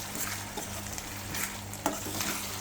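Tomatoes and onion fry in a pan, giving a constant sizzling hiss while a spoon stirs and scrapes through them, with a sharper clink near the end, close and without talk.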